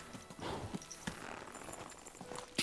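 Faint hoofbeats of a horse in Kingdom Come: Deliverance II clop along at a steady walking pace amid soft ambient noise, with a brief louder knock near the end.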